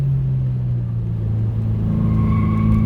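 A 2022 Subaru WRX engine drones loud and close as it accelerates through turns, a steady rumble whose pitch climbs slightly toward the end.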